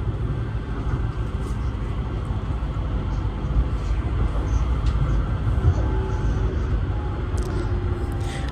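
A modern Moscow tram rolls along with a steady low rumble and a hum inside the cabin. Faint rattles come through now and then under the constant drone.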